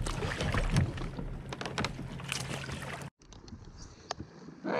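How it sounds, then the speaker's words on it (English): Kayak paddling in shallow water near Chokoloskee, with soft splashes and water swishes over outdoor ambience, fairly close, then a brief cut and quieter water sounds. "I'm doing a lot of paddling over pedaling."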